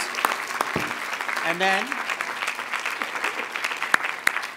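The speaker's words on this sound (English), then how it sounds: "Let's have a round of applause before I confer the degrees." A large crowd at a university commencement ceremony applauds steadily, the clapping continuous and moderately loud, with a voice briefly speaking and a tonal whistle-like sweep sounding over it near the middle.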